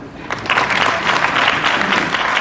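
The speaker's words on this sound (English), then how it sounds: "Another round of applause for him." An audience at a Kerala entrepreneurship conference panel breaks into loud, sustained applause that fills the room for the whole stretch.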